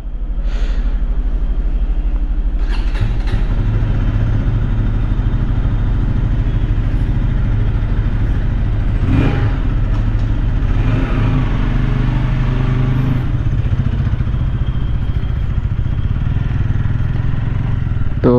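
KTM 160 Duke motorcycle engine accelerating on a ride, a loud continuous drone with rising revs and gear changes, wind rush and clatter throughout, no talking.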